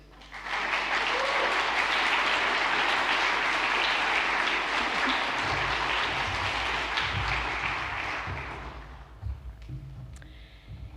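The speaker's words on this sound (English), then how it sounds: "Let's give a warm round of applause" Warm, sustained applause from the audience at a New Zealand children's and young adult book awards ceremony, dense and steady for several seconds before tapering off with a few thumps.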